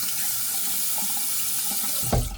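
Tap water runs steadily into a sink for a rinse after a wet shave, a continuous hiss that ends in a louder splash of water near the end.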